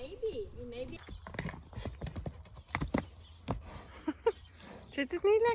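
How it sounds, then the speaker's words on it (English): Horse hooves clip-clop in an uneven rhythm during a riding lesson at a ranch near Ragusa, Sicily, with people talking over the steps and occasional higher vocal sounds. "Lily went for lots and lots of horse riding lessons at a ranch that we found near Ragusa on Sicily."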